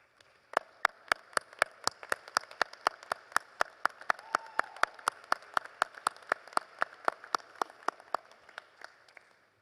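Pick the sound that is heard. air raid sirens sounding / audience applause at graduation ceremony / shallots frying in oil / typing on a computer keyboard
audience applause at graduation ceremony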